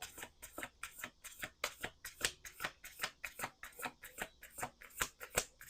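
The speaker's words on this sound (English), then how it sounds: "2 more shuffles." Tarot cards being shuffled by hand, a quick run of about twenty crisp riffling slaps in a steady rhythm, close and fairly quiet with no speech.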